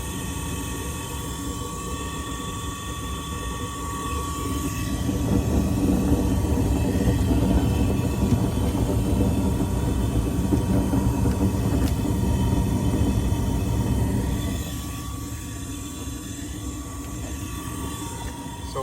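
Trane gas pack furnace burners light and run: a broad, steady roaring rush rises over a background hum, holds for about ten seconds, then eases back down to the lower drone.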